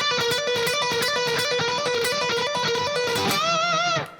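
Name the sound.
electric guitar repeating four-note rock lick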